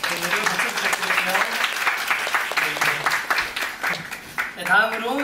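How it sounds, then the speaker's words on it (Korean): A theater audience applauds at the closing curtain-call stage greeting of the musical 'Oz', a continuous crowded patter of clapping throughout, fairly loud, with a voice speaking over it toward the end. "오늘 박수 부탁드립니다."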